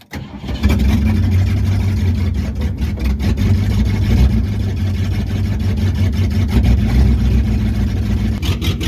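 A 1968 Ford 302 V8 with an Autolite 2100 carburetor starts up and settles into a low, rumbling idle, steady and loud up close, with a faint rhythmic lope and no talking.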